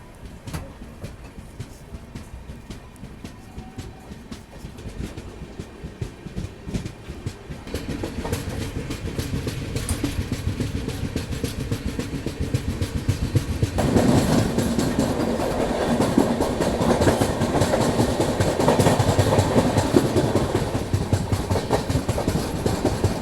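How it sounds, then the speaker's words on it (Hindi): The Pune Kanyakumari Express, train 16381, rumbles steadily as it takes a curve, its wheels clattering rhythmically on the rails and the noise growing louder and denser toward the end, with no voices. "और वो देखो अपनी ट्रेन कर्व लेते हुए अभी"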